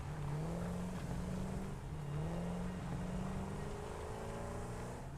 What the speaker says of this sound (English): the Explorer sounds kind of weird, like it never quite gets to full speed